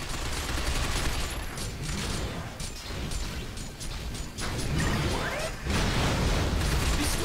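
Rapid bursts of gunfire and mechanical clatter in the shooter game Binary Domain, loud and near, continuous for several seconds with a short lull before heavier firing resumes.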